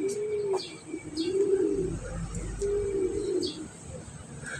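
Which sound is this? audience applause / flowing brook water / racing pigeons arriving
racing pigeons arriving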